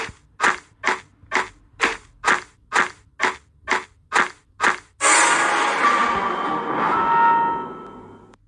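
Gunfire in the Weplay online party game: nine evenly spaced sharp shots ring out in a steady rhythm, followed by a long, loud burst of noisy crashing or crumbling that fills the rest of the clip.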